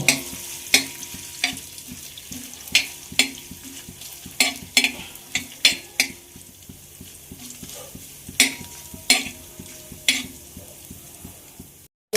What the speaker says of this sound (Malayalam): അപ്പം നമുക്ക് തേങ്ങാക്കൊത്തൊന്നും മുപ്പിച്ചെടുക്കാം